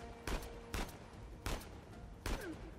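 Sniper gunfire in Uncharted 4, four loud, sharp single shots spaced roughly half to three-quarters of a second apart, each with a short ringing tail, with no speech over them.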